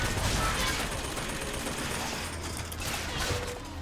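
Gunfire in the BioShock Infinite video game, a dense continuous burst of rapid shots and mechanical clatter, loud and close with little pause.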